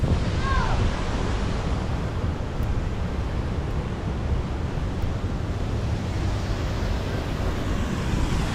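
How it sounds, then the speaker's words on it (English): Waterfalls at White River Park in Indianapolis pour in a loud, unbroken rushing roar, dense and close, with a faint bird chirp near the start. "And again, those are waterfalls."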